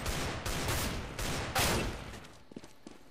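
Gunfire in CS:GO: a rapid sequence of loud, close gunshot bursts in quick succession for about two seconds, then a few fainter scattered pops trailing off, with no talking.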